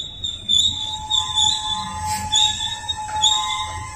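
A Norfolk Southern freight train rolls past, its wheels letting out sustained high metallic squeals in repeated waves over a steady low rumble of cars on the rails.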